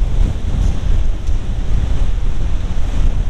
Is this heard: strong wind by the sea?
yes